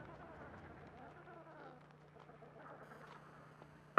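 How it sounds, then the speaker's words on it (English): Adelie penguins calling in an icy rookery, a busy mix of overlapping squawks and chattering calls at moderate distance, with a low steady hum underneath and a sharp click at the very end. "These are Adelie penguins."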